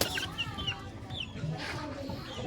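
Gamefowl chickens cluck at feeding time, a quick string of close, overlapping clucks and calls from several birds.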